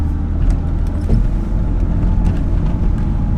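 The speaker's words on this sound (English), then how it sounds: "first test drive with the MaXpeedingrods coilovers on the E36" A BMW E36 3 Series fitted with MaXpeedingrods coilovers drives on a road by a small business park, giving a steady, loud engine drone and road rumble throughout with a brief bump near the middle.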